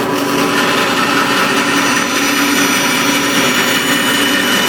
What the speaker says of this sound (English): So let's take it over to the bandsaw, and we'll do that real quick here.